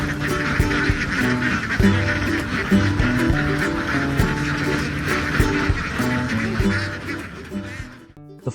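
A large flock of ducks on a Vietnamese free-range duck egg farm, settling in for the evening: dense, overlapping quacking and honking from many birds at once, loud and continuous, fading near the end.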